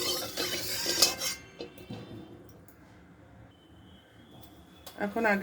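A metal spatula scrapes and clinks against a wok a few times as oil is stirred in, with a person talking over it.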